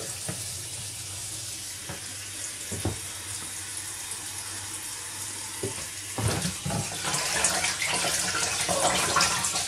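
Tap water runs steadily over a salted cucumber being rinsed for a cucumber yogurt salad, a constant hiss that swells louder toward the end, with no one talking.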